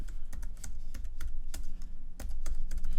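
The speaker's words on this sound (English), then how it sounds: "and we'll type in our old password," Fingers type a password on a computer keyboard in a fast, close run of crisp key clicks with brief uneven pauses, heard alone.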